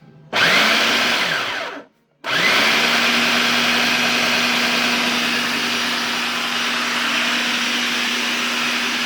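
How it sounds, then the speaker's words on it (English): A food processor blending cooked buttercup squash into pie filling, whirring loudly with a steady motor hum, cutting out for a moment after a short burst and then starting again to run steadily. "Not sure why I can't operate my food processor today."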